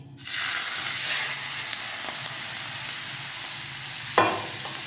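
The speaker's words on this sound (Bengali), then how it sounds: "এবার ধোয়া ওঠা গরম সর্ষের তেলটা দিয়ে দেবো এর মধ্যে।" Smoking-hot mustard oil hits turmeric, salt and spices for a green chilli pickle, bursting into a loud, steady sizzle close up, with a brief clatter near the end and no talking.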